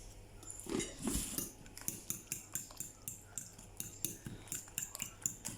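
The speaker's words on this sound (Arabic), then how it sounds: "هذا البيض مع هاد العناصر كامله كتخلط" A utensil rapidly beats eggs with cumin and salt in a bowl, a quick, regular run of clinking taps against the bowl's side, with a few louder knocks near the start.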